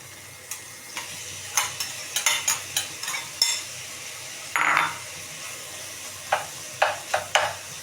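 Tomatoes with their seeds removed stir-frying with pork in a pan, heard as a run of short scraping, clattering stirs in an uneven rhythm over a faint sizzle, close by, with no talking.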